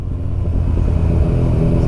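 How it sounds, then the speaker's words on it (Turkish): Motorcycle engine fitted with an aftermarket exhaust, a loud, steady low rumble running close and continuous throughout with no pauses. "İnsanlar motosikleti hızıyla ve sesiyle biliyor."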